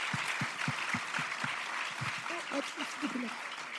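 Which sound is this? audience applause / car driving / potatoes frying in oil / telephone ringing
audience applause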